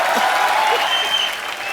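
A studio audience on a comedy show breaks into brisk, even applause, a dense continuous patter of many hands held at a steady loudness throughout.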